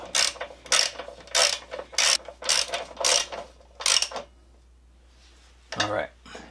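A ratchet wrench snugs a bolt on the front fork of a Yamaha V Star 1300 motorcycle in a series of about seven close, crisp clicking bursts at a steady rhythm, followed by a pause and one last short burst.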